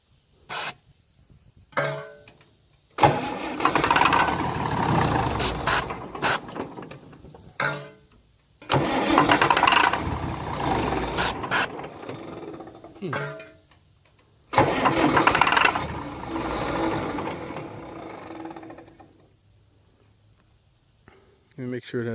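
Old diesel tractor being cranked repeatedly: several bursts of starter grinding and rough engine catching that sputter out between pauses, close and fairly loud, with brief speech.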